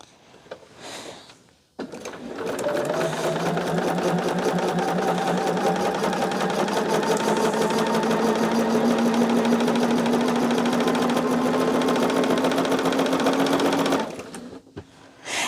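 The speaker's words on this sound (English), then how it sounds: "what we're going to do today is just get the half square triangles sewn" A sewing machine sews half square triangles for a quilt in one long, steady, loud run of rapid stitching lasting about twelve seconds, with short quiet gaps at the start and end.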